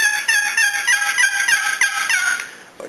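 Rapid turkey hen yelps made on a custom longbox turkey call, a quick run of about three raspy, high notes per second, close and clear, with no voices.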